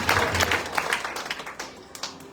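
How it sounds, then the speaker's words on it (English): A church congregation at a Sunday evening retreat in Margao claps hands together, a dense, lively burst of applause close by that carries through the whole short stretch with no voices over it. "Now you can clap hands for that."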